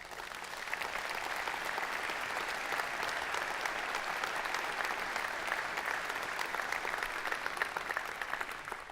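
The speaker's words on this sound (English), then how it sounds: "Can we give them a round of applause?" Sustained applause from an audience at an annual dinner, steady dense clapping that holds at an even level throughout with no pauses.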